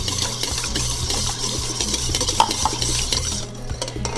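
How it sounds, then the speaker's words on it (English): Wet vegan chocolate cupcake batter with canola oil is whisked briskly in a bowl, a quick rhythmic clatter of metal tines against the sides that runs close and steady without talk. "Keep on whisking."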